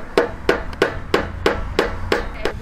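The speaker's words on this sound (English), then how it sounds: "we're gonna nail them down into the sides of each corner" Eight sharp hammer blows drive nails into the wooden corners of a flower box at a steady rhythm, each a crisp knock on wood, close and loud with no talking.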